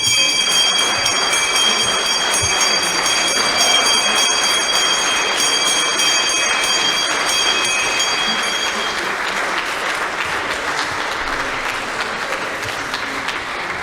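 An opening bell rung on the Frankfurt Stock Exchange trading floor, its sustained ringing tones heard under loud, continuous applause from a crowd throughout.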